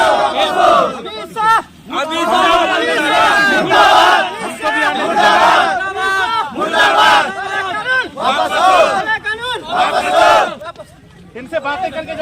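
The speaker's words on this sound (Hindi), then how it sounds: "ये लोग अमित शाह मुर्दाबाद और काला कानून वापस लो की बातें कर रहे हैं" A loud crowd of driver union protesters chants slogans against a new law for drivers at a roadside junction, voices rising and falling in rhythmic shouted bursts with babble between, close and continuous throughout.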